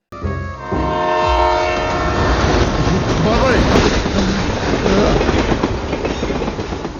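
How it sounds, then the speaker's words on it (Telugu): A train horn blares long and loud over the heavy rumble of a train rolling past with clattering wheels, a brief voice calling out near the start. "పట్టాలు లేకుండా ట్రైన్ ఎలా వచ్చింది?"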